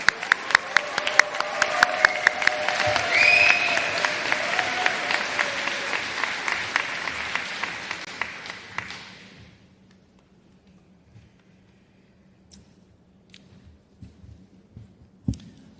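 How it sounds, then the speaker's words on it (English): Sustained applause from a large commencement audience at an undergraduate graduation ceremony, dense and steady for about nine seconds before fading into quiet room tone. "Let's have another round of applause for these phenomenal students and their amazing work."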